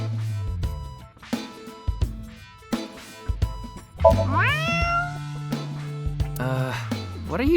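A character in the video game AI: The Somnium Files nirvanA Initiative meows at a lucky cat statue, a voice imitating a cat with several rising, drawn-out meows over soft game music.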